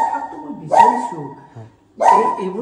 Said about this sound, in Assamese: ডগি